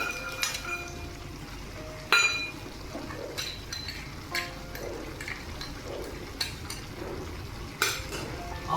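A metal lid clanks onto a pot of lau bori curry, bottle gourd with lentil dumplings, with several sharp clinks and knocks of cookware spread across the clip over a low background hiss.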